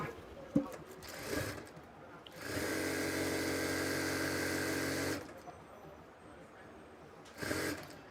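A sewing machine stitches a plazo side seam with a half-inch allowance, running in one steady whirring burst of about three seconds, with short starts before and after amid quiet handling noise.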